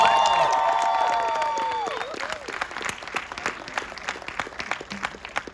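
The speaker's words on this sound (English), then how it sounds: "All right, one more round of applause, ladies and gentlemen." Audience applause with some cheering for the cast of Nosferatu at a film event, loud and dense at first with whistles over it, then fading into scattered clapping.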